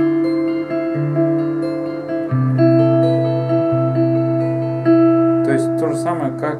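Guitar plays a passage, sustained chords shifting every second or so with ringing notes, close and clear, ending in a brief burst of noisy string scrapes.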